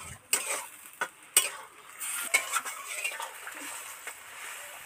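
Fish curry being stirred in a pan over a high flame, with a spoon scraping and clinking in a few sharp strokes over a steady close sizzle, alone without talk.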